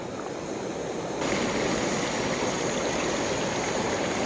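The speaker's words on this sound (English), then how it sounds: "Oh, they're simmering nicely." Potatoes simmer in a pot over a camp stove on a winter woodland wild camp, giving a soft, continuous bubbling hiss that stays even and fairly quiet throughout.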